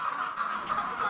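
Chickens on an egg farm in the Philippines, a steady flock chorus of clucking that holds close and even across the clip with no voices over it.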